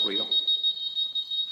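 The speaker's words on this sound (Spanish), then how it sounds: "la alarma que está haciendo todo ese ruido" A steady high-pitched alarm tone sounds continuously indoors, with a brief burst of voice at the start.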